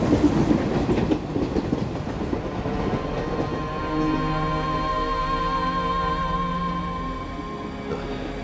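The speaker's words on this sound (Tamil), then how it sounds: "காலையில இருந்து நாம இந்த ட்ரெயின்ல தான் இருக்கோம்." A passenger train rolls steadily along the rails, a continuous rumbling clatter with rhythmic wheel clicks, heard from inside the carriage, louder at first and then settling into a smoother hum with faint tonal whines.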